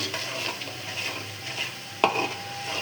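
Spices with salt, turmeric, chilli powder and cumin paste sauté in a pan for rohu fish curry, a continuous sizzle under repeated stirring, with one sharp spatula knock near the end.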